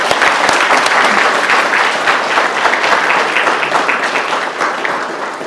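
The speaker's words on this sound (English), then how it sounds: "So one more round of applause for everybody that put this thing together" A full room claps steadily at a hall of fame ceremony in Wichita, a loud sustained round of applause that carries on throughout and tapers slightly near the end, with no talking over it.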